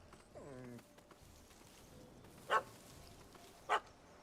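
In the Witcher 3 game world, a puppy yelps at a cat up a tree, giving a short whining bark followed by two brief, faint yips over quiet ambient background.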